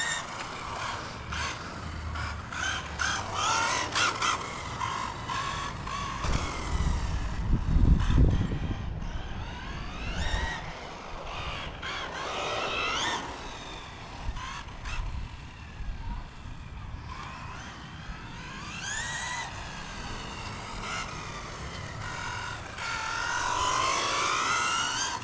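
A Losi 22S RC sprint car drives continuously with a buzzing, whining electric motor that rises and falls as it slides through corners, accompanied by rough tire and surface noise over a steady background.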